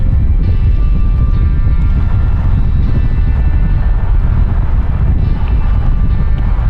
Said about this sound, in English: That wind is getting so much worse.